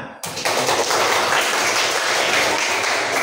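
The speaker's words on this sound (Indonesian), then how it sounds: "Tepuk tangan." Indonesian classroom applause for a correct answer, dense clapping that starts abruptly after a brief pause and stays loud and steady for about three seconds.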